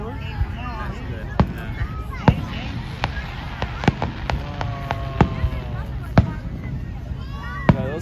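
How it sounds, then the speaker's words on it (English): Canada Day fireworks bursting in a crowd, sharp booms and crackles scattered irregularly over about eight seconds, some loud and near, with people chatting and murmuring underneath throughout. "No, those fireworks are sweet."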